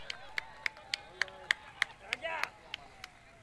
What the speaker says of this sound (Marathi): सहआयोजक यांच्यासाठी एकदा जोरदार टाळ्या